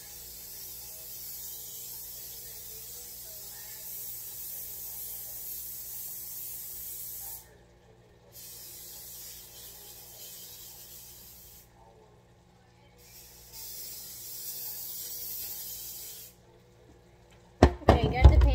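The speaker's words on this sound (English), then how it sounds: "Let me spray the pan." Long hissing bursts of aerosol cooking spray onto a pan, three sustained sprays separated by short pauses, close and steady, followed by a few clattering knocks at the end.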